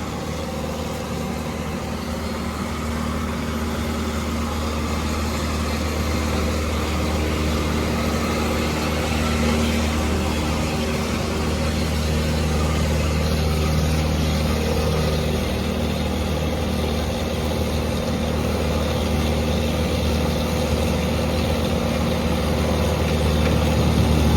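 A tractor engine idles continuously nearby, a steady low rumbling drone with no pauses and no voices.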